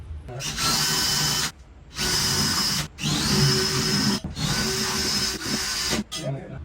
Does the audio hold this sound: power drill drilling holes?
yes